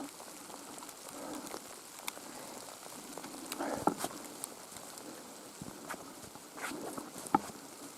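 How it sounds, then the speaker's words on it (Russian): Rain falls in a forest in Komi during a capercaillie hunt, a soft, steady patter with scattered closer drop taps, faint and fairly distant throughout. "Льет дождь, ребят."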